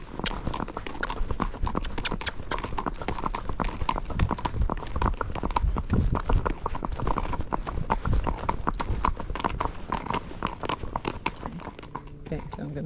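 Horse hooves clip-clop in a quick, steady gaited rhythm along with other riders, close and continuous throughout, while a rider talks intermittently over the hoofbeats.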